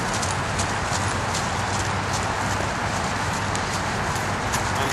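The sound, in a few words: horse hooves walking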